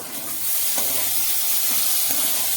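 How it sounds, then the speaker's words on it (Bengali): Potatoes frying in a pan are stirred, a continuous bright sizzle with a few soft scraping strokes of the stirring over it, close up and without talk. "একটু লাড়াচাড়া কইরা দেই"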